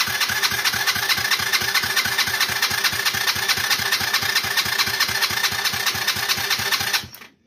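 A small Chinese 50–150cc engine chugs at a steady, rapid idle on a homemade short wiring harness, its even putter continuing for several seconds before abruptly cutting out.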